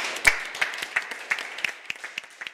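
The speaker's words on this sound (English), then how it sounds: "And now it's time to clap hands" At the close of an international façade summit, an audience claps in a brisk, steady rhythm. The beats are evenly spaced and moderately loud, with no voices over them.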